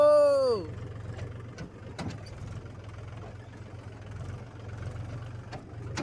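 A tractor's engine idles with a steady, low, even rumble from start to finish. A brief falling tonal whine sounds over it in the first half-second, then fades away.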